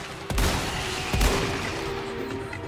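Two sharp gunshots ring out in the Resident Evil 4 Remake video game, loud close cracks spaced about a second apart with a ringing tail.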